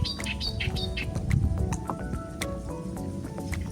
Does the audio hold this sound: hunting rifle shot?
no